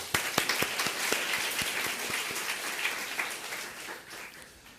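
A church congregation in Osaka claps in thanks. A few sharp, distinct claps open the round, then it swells into moderate, steady applause that slowly thins out.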